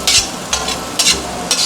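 Onions sautéing in peanut oil for shrimp omelette and Yang Chow fried rice, a steady soft sizzle broken by four crisp bursts as the pan is stirred, no talk.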